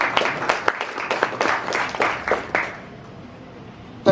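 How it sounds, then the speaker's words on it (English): A small conference audience in a Nairobi hotel claps in quick irregular bursts for a couple of seconds, then the applause fades out into quiet. "Please give a round of applause to Sam Ocheng as he takes it up from here."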